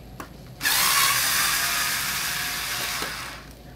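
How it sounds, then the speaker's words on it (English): A power driver whirs steadily for about three seconds, close by, backing screws out of a OneWheel Plus electric skateboard. "So now there are two screws right here that we need to remove"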